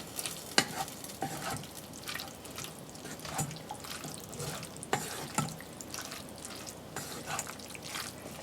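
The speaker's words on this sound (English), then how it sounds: "you add the remaining pasta to it, then equally stir it" Pasta being stirred into tomato sauce for a school lunch, wet squelching and scraping with intermittent clinks of a spoon against the pot, fairly quiet and close.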